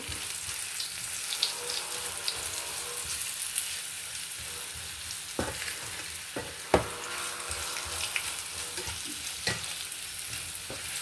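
Potatoes frying in a pan, being stirred: steady sizzle throughout with a few sharp scraping and clacking stirs of the utensil against the pan, close and moderately loud, no talking.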